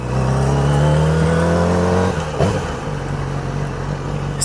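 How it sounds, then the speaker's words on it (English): A motorcycle with the baffle pulled from its slip-on exhaust revs loud and close, the engine note climbing steadily before dropping off and settling into a rough, throaty idle. "If you guys haven't noticed, I took the baffle out of the exhaust."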